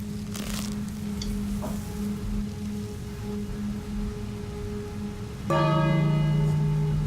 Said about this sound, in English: I wonder if you fail if you ring that bell too early.